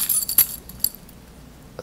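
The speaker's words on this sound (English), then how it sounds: "Bunch of keys, as you guys can see." A bunch of keys jangles in a short metallic clink and rattle near the start, followed by a lighter clink and then quiet.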